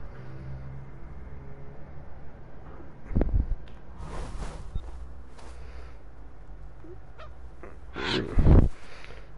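Goose-like honking from a bird in Assassin's Creed Valhalla, two loud bursts around the third and eighth seconds over a low ambient game rumble.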